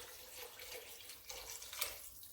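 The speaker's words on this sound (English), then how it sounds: "I'm just going to add our water in now." Water pours into a pot of sweated-down vegetables for a hearty vegetable soup, a steady splashing run with a brief brighter surge near the end, close and fairly quiet, with no voices.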